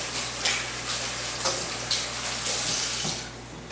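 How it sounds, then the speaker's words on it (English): A kitchen sink tap runs steadily while hands are washed under it, a close stream of water broken by soft splashes and small surges, with no talking. "I'm gonna wash my hands real quick."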